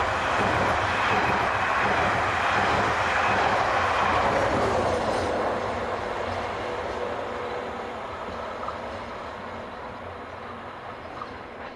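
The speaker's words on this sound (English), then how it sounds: "16103 heads for Paris with a train of double-deck stock" Locomotive 16103 hauls a train of double-deck stock toward Paris past Uzelle station south of Rouen, a loud rumbling pass-by with rail clatter that fades gradually as the train draws away.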